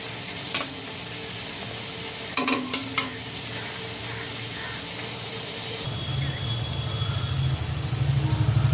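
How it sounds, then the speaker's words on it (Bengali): Sweet potato langcha fry in hot oil in a pan, giving a steady sizzling hiss with a few sharp clinks of a utensil early on and the frying growing louder and bubblier toward the end. "লাল লাল করে ল্যাংচাগুলো ভেজে নেব"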